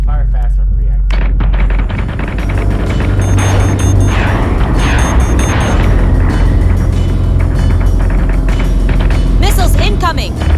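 Missiles explode during a space fleet battle in Battlestar Galactica Deadlock, a dense, loud barrage of booms and rumbling impacts over a constant heavy low drone.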